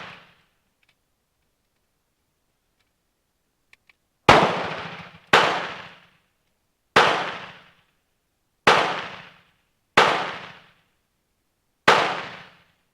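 Six sharp shots from a Spanish Destroyer carbine at irregular intervals after a quiet stretch, each a crisp crack with a short ringing decay.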